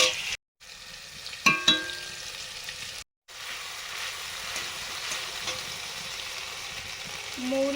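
Green chillies and ginger paste drop into hot oil with hing and black cumin, giving a sharp sizzle and clatter as they go in, then a steady frying hiss with light stirring, with brief gaps of silence.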